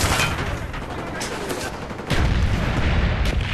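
A video game mortar strike hits as a dense barrage of loud explosive booms and rattling gunfire, continuous and close, with a heavier blast burst midway, while a voice speaks faintly underneath.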